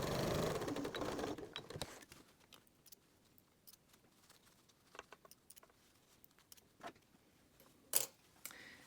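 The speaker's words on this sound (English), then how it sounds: "that's where we'll stop sewing and backstitch" A sewing machine stitches a fabric scrunchie in a short whirring run, then falls quiet apart from a few small clicks and taps as the backstitch is finished.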